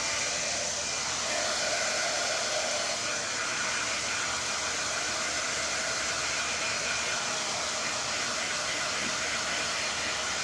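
A hair dryer blows without pause at close range, a loud, steady whooshing roar that never changes pitch or level.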